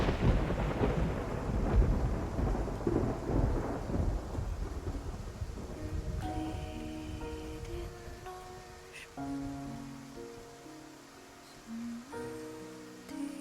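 A thunderstorm at sea from the video game Love and Deepspace, with deep rolling thunder and rushing rain at the start that fade into soft game music.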